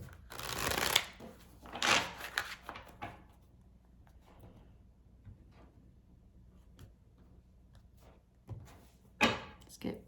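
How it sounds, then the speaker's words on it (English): A deck of tarot cards is shuffled by hand in quick riffling bursts near the start and again near the end, with quiet stretches and faint handling taps in between. "Gonna shuffle a bit more."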